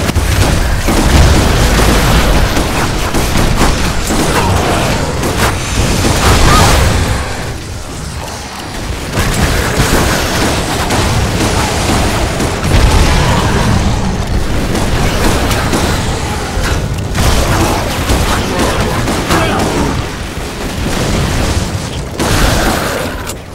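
Automatic shotgun firing scatter shot in a Lara Croft action game, a long run of loud booming blasts with brief pauses between bursts, dense and continuous with no voices.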